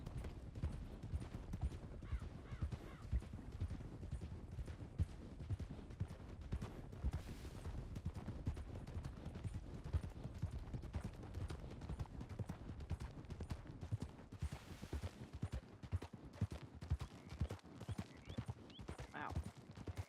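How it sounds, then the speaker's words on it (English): Wild horses galloping in a video game, a dense continuous clatter of hooves with occasional sharp bursts and possible whinnies, steady and fairly close throughout, with no clear speech. "lots of wild horses."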